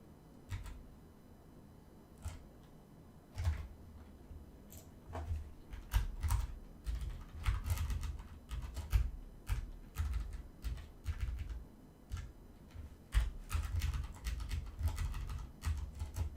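Typing on a computer keyboard during a coding livestream, irregular runs of key clicks and thumps over a low background rumble, fairly close, continuing for a long stretch without speech.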